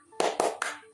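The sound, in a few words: class doing the tepuk semangat clapping routine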